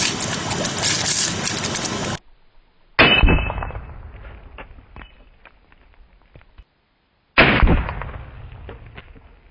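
A .223 rifle fires into a hardened, heat-treated 4140 steel plate, giving two loud, sharp impacts that ring on with a metallic clang and fade, separated by silence, with no talk.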